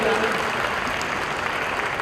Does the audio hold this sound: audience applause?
yes